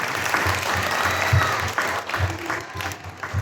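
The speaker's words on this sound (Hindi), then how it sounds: "जोरदार तालियां हो जानी चाहिए" Audience applause at a children's Jain fancy dress competition, a steady dense wash of clapping with rhythmic low thumps, sustained and fairly loud throughout.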